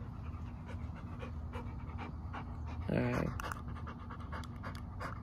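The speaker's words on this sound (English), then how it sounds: "my dog has been out here chilling with me, living his best life." A dog pants rapidly and steadily nearby outdoors, with quick rhythmic breaths continuing throughout while a person speaks briefly over it.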